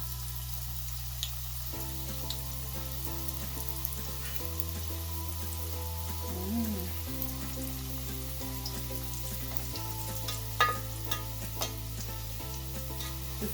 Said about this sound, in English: we are going out to fry our samosas